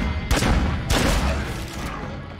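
Two loud bursts of video game gunfire in quick succession, sharp broadband blasts close up followed by a fading rumble, with no talk over them.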